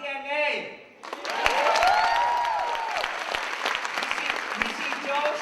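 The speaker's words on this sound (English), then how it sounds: "then I want loud claps in the audience" An audience at a live talk event breaks into loud applause right after a brief spoken line. Dense clapping swells and carries on for several seconds, with a few cheers and whistles mixed in.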